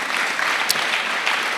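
A church congregation claps in a dense, steady wave of applause at a sermon, continuous throughout with no voice rising above it.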